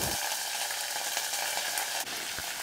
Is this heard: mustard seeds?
yes